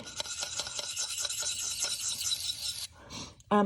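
Secateurs blade being sharpened at a slight angle with repeated rasping strokes, a steady run of close scraping for about three seconds, then a pause and a few softer handling knocks.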